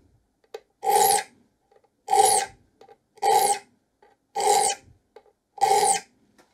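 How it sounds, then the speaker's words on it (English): A steel file rasps across the teeth of a handsaw being re-toothed, five evenly spaced strokes, each a loud, bright scrape of about half a second, with short quiet gaps and faint clicks between them. "Now these are still going in with the top of the file flat."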